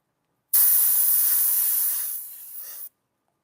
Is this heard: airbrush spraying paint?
yes